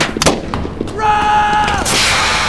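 Burst of gunfire from the VR tactical shooter game Onward, loud cracks at the start followed by a sustained ringing tone and then a rush of noise, close and harsh.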